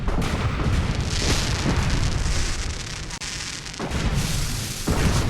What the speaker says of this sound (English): Everything's turning back on, and fireworks are going off.